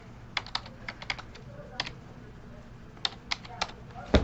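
Fingers tapping the keys of a graphing calculator while entering functions, a series of close, crisp clicks in uneven bursts with short pauses between, ending in one louder press.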